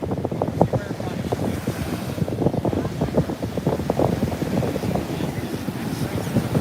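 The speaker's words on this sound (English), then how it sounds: "These are some crazy waves today." Big surf breaking at Juno Beach, a steady broadband wash of churning water with wind buffeting the microphone throughout, no distinct individual wave crashes standing out.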